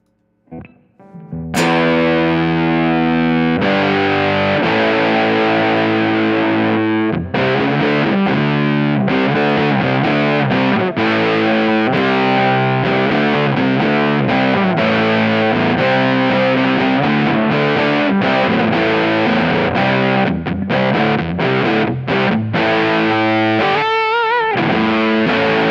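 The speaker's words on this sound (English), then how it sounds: "Let's try another Kemper fuzz. Here's a Psych 69 Germanium." Gibson NG-355 electric guitar played through a Kemper Psych 69 Germanium fuzz, a dense, saturated fuzz tone with sustained chords and rapid strummed changes, loud and continuous for most of the clip without talk.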